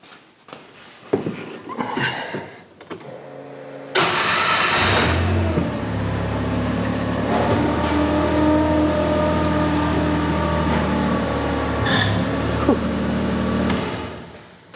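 A Cushman Truckster engine runs in a garage, starting abruptly and holding a loud, steady mid-pitched idle with slight revving at close range, alone without talk.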